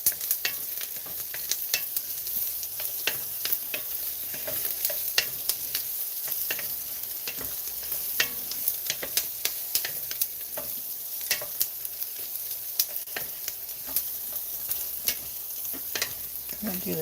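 Food frying in a pan while being stirred, a steady bright sizzle under frequent quick scrapes and clicks of a utensil against the pan, continuing evenly and close throughout.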